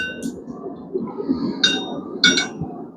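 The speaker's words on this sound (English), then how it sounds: "just working around as we hammer" A blacksmith hammering hot steel while rounding a hot dog fork on the anvil, giving a few ringing metallic clinks at irregular intervals over a low background rumble.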